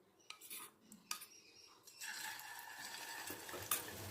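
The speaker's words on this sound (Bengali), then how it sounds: "এখন কোপ্তাগুলো এর মধ্যে চুবিয়ে চুবিয়ে ভাজবো" Katla fish koftas dipped in egg batter go into hot oil, with scattered clinks and scrapes of a utensil first, then a soft steady sizzle spreading out, quiet and close.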